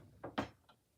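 A craft room drawer that holds scissors and cutters slides open or shut, two quick quiet knocks followed by a faint third, with no voices.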